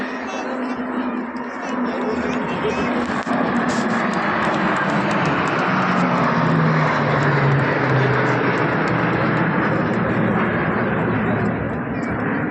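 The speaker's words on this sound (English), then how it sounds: "These aircraft, a true marvel of modern aviation, symbolize the spirit of innovation." The Varuna aircraft formation flies past in wing formation at the Republic Day parade in New Delhi, a loud sustained engine roar with a falling pitch as the aircraft pass overhead, with a commentator talking over it.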